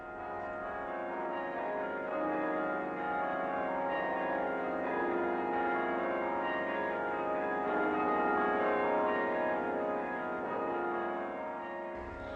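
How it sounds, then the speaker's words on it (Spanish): Many bells of a 53-bell carillon in a Gothic cathedral, played by a carillonneur, ring together in a sustained, resonant wash of overlapping tones, steady and full for the whole stretch. "Tiene 2 conjuntos de campanas y un carrillón de 53 campanas tocado"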